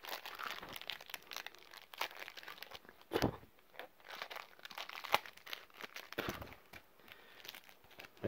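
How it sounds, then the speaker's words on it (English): A Pokemon cereal box packet is torn open with the teeth, producing close, quiet crinkling and crunching plastic with sharp rips scattered through the clip. "just tear it all open with my teeth"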